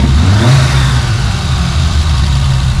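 A cold, flood-damaged BMW E30 engine runs loud and steady, its low rumble rising slightly in a brief rev before settling back to a rough, uneven idle.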